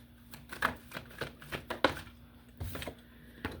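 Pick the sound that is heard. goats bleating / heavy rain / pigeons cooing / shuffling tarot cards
shuffling tarot cards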